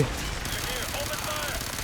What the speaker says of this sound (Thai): เปิดฉากยิงพวกมันเปิดฉากยิงแล้ว